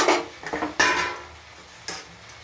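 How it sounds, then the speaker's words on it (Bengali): A metal lid set onto a pot of prawns wrapped in bottle gourd leaves on low heat: a few close clanks and rattles, then a quieter clink near the end, no talking. "ঢাকা দিয়ে রেখে দিই। কম আঁচে হবে।"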